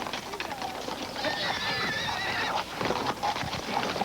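Harnessed horses whinny and neigh repeatedly while hooves clip-clop, in a busy outdoor scene during a historical demonstration in which horses strain against a joined metal ball, with a narrating voice running over the top.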